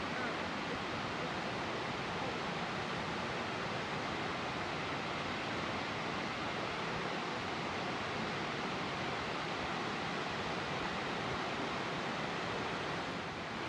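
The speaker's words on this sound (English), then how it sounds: "Hear the water falling? It's pretty loud, actually." Alexander Falls near Vancouver pours water in a constant broad roar, loud and unbroken, with no voices over the steady rushing.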